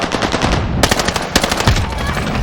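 A heavy anti-tank rifle fires in the Call of Duty shooter game, loud close booming shots in quick succession with dense gunfire throughout, alone with no talking.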